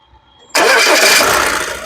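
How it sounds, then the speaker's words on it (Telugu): A 2014 Audi A4 with an automatic transmission starts on the first crank after a brief near-silent moment. The engine catches abruptly and settles into a loud, close, steady idle roar. "ఈ కార్ సింగిల్ సెల్ఫ్ లో స్టార్ట్ అవుతుందా లేదా అన్నది చూపిస్తున్నాను"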